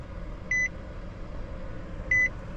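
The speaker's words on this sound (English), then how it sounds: "You're going to hear some beeps." Two short electronic beeps, spaced about a second and a half apart, sound from a 2019 Nissan Sentra during proximity key programming, standing out clearly over a low steady background hum.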